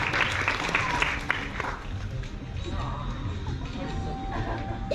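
An audience on a cruise ship celebrity event claps steadily for a trivia winner, a dense, moderately loud patter of many hands that holds for several seconds, with a voice faintly audible underneath.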